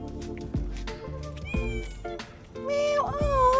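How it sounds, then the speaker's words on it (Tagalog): A cat on the glass bridge at Lusail, Qatar meows repeatedly, several clear, close, loud calls in a row rising into a long, wavering meow at the end, with outdoor ambience. "Another cat."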